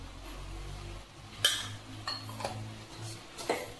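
Sugar, raisins, cashews, almonds and cardamom powder go into a pan of sheera, giving a few soft clinks and taps of a spoon against the pan, fairly faint and close.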